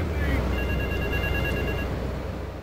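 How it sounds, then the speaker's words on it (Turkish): Telephone ringing in the video game GTA 3, a thin electronic ring repeating in short bursts, mid-distance under steady low rumble and ambient game noise. "Bir yerde telefon mu çalıyor?"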